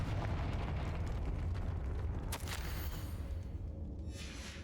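A Confringo blasting curse explosion in the Hogwarts Legacy video game, heard as a dense rumbling roar with a sharp crack partway through, fading into a hissing tail at the end.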